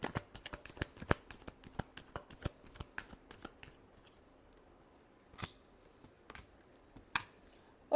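Tarot cards are shuffled by hand in quick sharp riffles and flicks, a dense run of crisp snaps that thins into a few isolated slaps, close and quiet with no talking.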